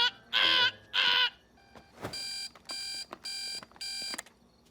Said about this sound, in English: Don't you have a super annoying alarm clock that goes